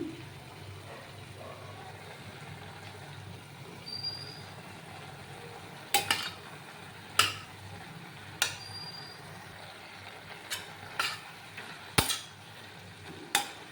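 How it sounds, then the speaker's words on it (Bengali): Spices with turmeric, cumin, dried chilli, chilli powder and salt fry in a kadai, a soft steady sizzle punctuated by repeated sharp scrapes and taps of a spatula stirring against the metal. "মশলাগুলো ভালো করে দিয়ে দিয়েছি এবং ভালো করে নাড়ানাড়ি করে নিয়েছি"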